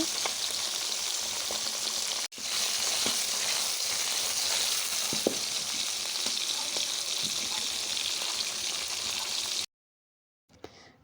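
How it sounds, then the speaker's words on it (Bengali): Green chillies and chopped onion frying in hot oil left in the kadai after frying fish, a loud, steady, close sizzle with a short break early on, stopping abruptly near the end before a brief final noise. "ওই তেলেতে আমি কাঁচামরিচ এবং পেঁয়াজ কুচি দিয়ে দিয়েছি কিছুক্ষণ লাল লাল করে ভেজে নিয়েছি"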